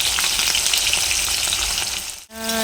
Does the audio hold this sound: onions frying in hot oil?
yes